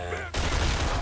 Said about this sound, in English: And I'm getting shot to shit.